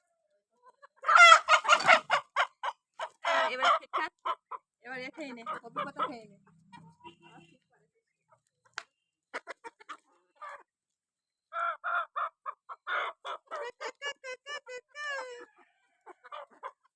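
A rooster weighing about one and a half kilograms clucks and calls in bursts at close range in a village setting, with pauses between, while a person speaks over part of it.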